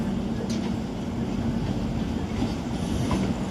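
Howrah Amritsar Mail running at speed, heard from inside a 3rd AC coach: a constant low rumble and hum with rhythmic wheel clatter, steady and close, with no voices.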